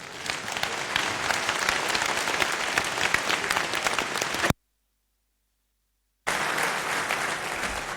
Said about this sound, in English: please help me welcome him with a warm round of applause